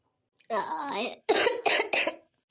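A voice makes a drawn-out sound, then three quick harsh coughs, close up against a quiet background.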